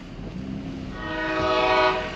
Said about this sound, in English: There's a choo-choo train rolling by.